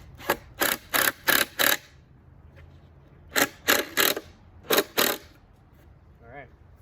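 Screws are driven in short, sharp mechanical bursts, likely by a power driver, fastening a screech owl house box to a tree from a ladder 10-15 feet up. The bursts come in quick clusters of four and three with pauses between.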